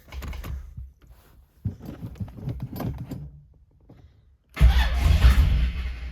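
A supercharged Chevrolet Camaro Z28 engine cranks and catches on the ignition key, roaring to life loudly near the end after a stretch of quieter clicks and rustling.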